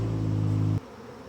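Honey bees buzz loudly and close during an apiary hive inspection, a dense droning hum that cuts off abruptly partway, leaving a quieter buzz behind.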